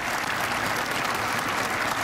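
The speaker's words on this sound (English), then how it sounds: "very hopeful as they applaud for Taiwan Berryhill" Fans clapping in the stands at a Kansas Jayhawks vs Texas Tech Red Raiders college basketball game, a dense, steady burst of applause from a sparse crowd, heard on its own.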